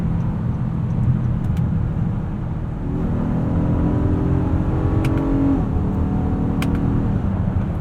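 A 2021 Honda Odyssey Elite's V6 engine hums steadily, then its pitch climbs smoothly as it accelerates, a sustained droning rev with a faint whir on top.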